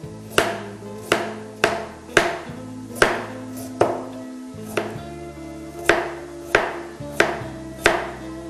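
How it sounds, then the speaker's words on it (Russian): A knife slices carrots against a cutting board, about a dozen crisp, evenly spaced strikes up close with a faint background hum. "Я вот морковку нарезаю такими слайсами"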